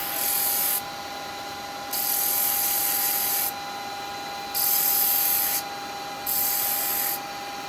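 A wooden perfume pot stopper spins on a lathe while its bottom is turned, a steady whirring hum with a tonal whine, broken by bursts of bright scraping hiss as the tool cuts in and lifts off.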